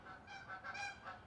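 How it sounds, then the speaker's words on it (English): A flock of geese honking as they fly back in warming early-spring weather, several faint, distant honks rising and falling in quick succession with no talking. "Hear that ducks? They're ducks, right? Geese."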